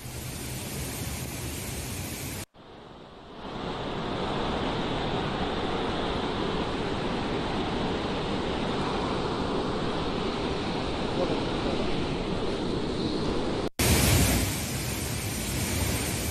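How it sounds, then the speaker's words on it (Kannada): A roaring waterfall swollen by heavy Kerala monsoon rains gives a constant broadband rush of falling water, steady and loud, with abrupt cuts at the start and near the end. "ಧುಮ್ಮಿಕ್ಕುತ್ತಿರುವ ಜಲಪಾತ ಒಂದು ಕಡೆ ನಾರ್ಮಲ್ ಆಗಲ್ಲಿ ನೀರು ಹರಿತಲೇ ಇರುತ್ತೆ"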